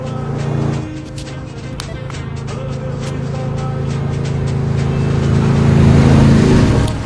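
Engine of a limo driving up in Saints Row 2, a steady motor hum that drops briefly then swells louder as the car nears, with faint clicks over it.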